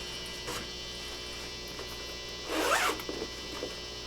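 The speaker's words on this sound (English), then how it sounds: "That's what you heard by that zipper." A clothing zipper pulled open or shut nearby, a sharp rasping burst with a couple of softer zip catches after it, over a steady electrical hum in a quiet room.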